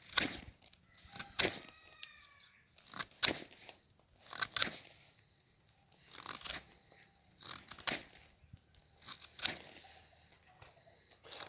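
Cutting a mulberry scion for an English tongue graft: a series of crisp, close crunching and snipping cuts into the wood, coming in irregular bursts about a second apart, with quiet pauses between them.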